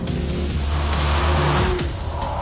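A Mercedes-Benz racing around a track at speed: a loud, close, continuous engine roar with a noticeable drop in pitch at a gear change.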